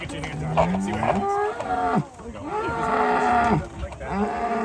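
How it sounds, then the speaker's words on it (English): Large red and white Ankole Watusi cattle at a wildlife park low loudly in long, drawn-out moos, several calls in succession, close and resonant with a rough, roaring quality. "He's one of our many Ankole Watusi. They're the large red and white cattle."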